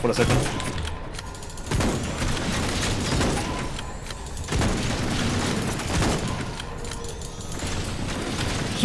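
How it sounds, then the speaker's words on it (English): Gunfire in the shooter game Hunt Down the Freeman: several heavy, sharp shots rising out of a constant loud mix of combat noise and rumble, spaced a couple of seconds apart. "Maybe we want to equip the sniper rifle just for a second."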